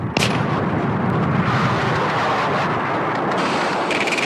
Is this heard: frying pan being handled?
no